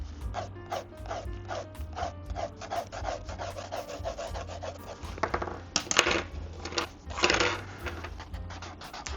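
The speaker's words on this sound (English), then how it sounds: "For when I use the blending stump, what I aim to do is leave some of the areas white for sure." A paper blending stump rubs over a pencil drawing of an owl on drawing paper, giving quick, close, scratchy strokes in an uneven rhythm that grow heavier and longer toward the end.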